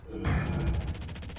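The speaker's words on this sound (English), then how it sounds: "See some gunfire out in the deep." Gunfire in the video game Ghost Recon Advanced Warfighter during a LAN tournament match: a sharp burst followed by a rapid, rhythmic string of shots, fairly loud and close.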